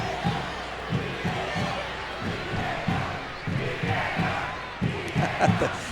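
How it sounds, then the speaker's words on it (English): A stadium crowd at a women's international soccer match between the USA and Mexico chants VAR in a steady rhythmic pulse of about two beats per second, loud and massed, with cheering swelling near the end. "the crowd are chanting VAR"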